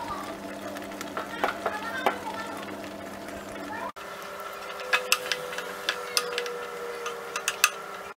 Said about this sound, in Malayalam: ഈ പാൽ വറ്റി ഈ ക്യാരറ്റിലേക്ക് ചേരുന്നവരെ നമ്മളൊന്ന് ഇളക്കി കൊടുക്കണം